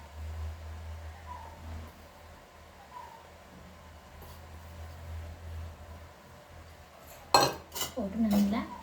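A spoon stirs boiled shrimp and grated coconut in a metal pot, giving faint scraping at first, then a burst of loud clanks and scrapes against the pot near the end.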